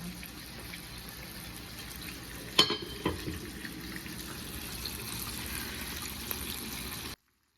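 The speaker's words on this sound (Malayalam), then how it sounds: "ഈ ചിക്കനിൽ വരുന്ന വെള്ളത്തിൽ തന്നെ ഈ ചിക്കൻ കുക്കാവും കേട്ടോ." Chicken cooking in its own released juices in a pan, a steady low simmering sizzle throughout with a few louder clinks and stirring knocks midway, close and alone.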